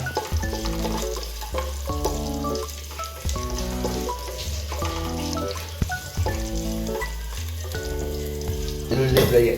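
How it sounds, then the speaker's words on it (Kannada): Garlic fries in a pan with a steady, close sizzle that runs throughout beneath melodic background music. "ಬೆಳ್ಳುಳ್ಳಿಯನ್ನು ಸರಿಯಾಗಿ ಫ್ರೈ ಮಾಡ್ಕೊಳ್ಬೇಕು."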